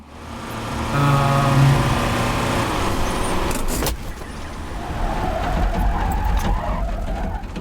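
A player's vehicle in the video game Encased, a steady motor drone with a sharp clatter midway, then a rougher rumble and rising whine as it carries on, with no voices.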